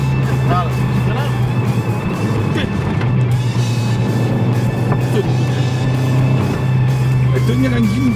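Peugeot 205 GTI on small roads, braking, with a loud close engine drone under the cabin and people talking over it.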